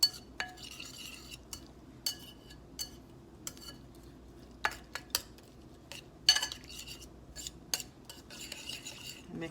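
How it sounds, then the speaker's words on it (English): A spoon stirs a milk mixture in a bowl before microwaving, giving a series of light, irregular clinks and scrapes against the dish, close and fairly quiet, with no talk. "you wanna go ahead and give it a little bit of a stir"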